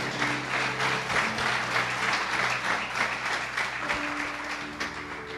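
A church congregation applauds during a communion service, a steady wash of many hands clapping together at an even level throughout, with a faint sustained tone beneath.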